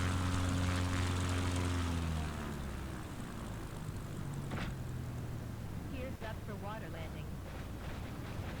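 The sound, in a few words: propeller airplane engine flying in a flight simulator video game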